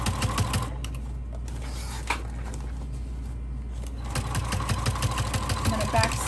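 Sewing machine backstitching a bag seam in steady rapid whirring runs, close and clear, with a brief pause midway before stitching resumes, while a voice speaks over it.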